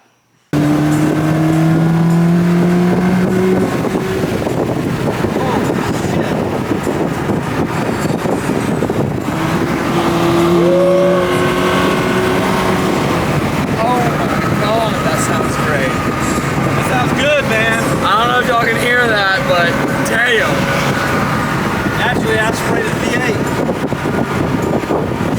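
A Ferrari 360 sports car driving on a test run after a fuel leak repair, its engine droning steadily throughout with shifting pitch as it accelerates, with wind noise and people talking inside over it.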